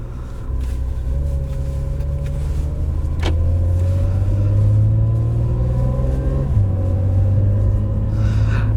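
A 2017 Acura NSX accelerates in normal drive mode through its 9-speed dual-clutch transmission, the engine note rising steadily from a low rumble, then dropping in pitch at a gear change before climbing again, heard loud from inside the cabin.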